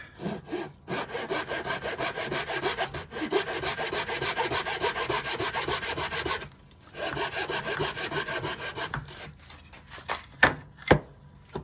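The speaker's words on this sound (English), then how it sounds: "Here's my pull saw." Hand pull saw cutting through wood for a cigar box guitar, fast rhythmic strokes close up, a brief pause midway, then a few sharp knocks at the end, no talking.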